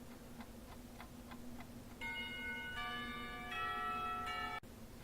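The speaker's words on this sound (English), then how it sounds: "The bells ring for a lunch break, startling me back into reality." A clear chime of bells rings for a lunch break in the visual novel game Katawa Shoujo, a sequence of sustained tones stepping through a melody after a few soft ticks, moderately loud and alone.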